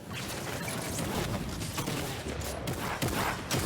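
Shotgun fire in the video game Fortnite during a World Cup solo final, dense and continuous with overlapping shots and crashing impacts, loud and busy throughout with no talk.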